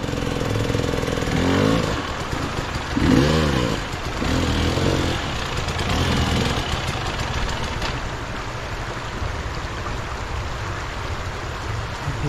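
A motorcycle engine on a dirt track idles and revs in a few short surges during the first half, then settles into a steady low running drone, with no voices over it.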